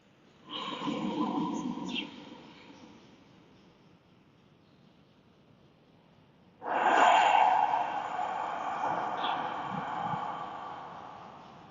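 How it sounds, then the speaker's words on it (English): Two slow, deep breaths during a lying-down relaxation exercise, each a long, soft airy inhale or exhale with a gentle hiss, separated by a quiet pause, close and alone without speech. "begin this breathing"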